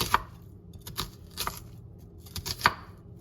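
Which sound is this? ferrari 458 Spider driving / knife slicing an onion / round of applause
knife slicing an onion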